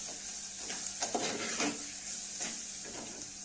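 Spice paste for chutney roasting in a pan for a rustic mutton handi, a steady low sizzle with soft scraping and stirring, close and fairly quiet, no voices.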